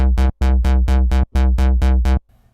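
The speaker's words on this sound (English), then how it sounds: "so let's assign a low pass filter, and now it should sound like this" Synth bassline through a low pass filter whose cutoff is modulated by an LFO, heard as about eight loud, evenly spaced notes in a steady pulse, each bright and harmonically rich, with short gaps between them and no talking.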